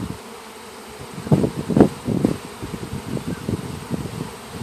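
A swarm of bees gathers in little pockets on leaves, buzzing close and steady, with louder swells as individual bees pass near amid soft rustling.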